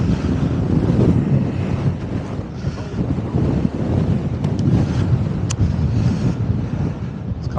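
Wind blowing across a links golf course during an amateur competition buffets the microphone in a loud, constant rumbling roar with gusty swells throughout.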